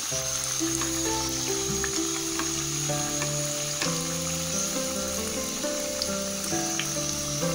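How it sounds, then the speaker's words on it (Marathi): Tikki patties shallow-fry in a little oil over medium heat. A steady, close sizzle carries on throughout, broken by a few soft crackles and clinks, and no one talks. "थोड्याशा तेलामध्ये आपल्याला टिक्की असं थोडंसं फ्राय झाल्या पाहिजे"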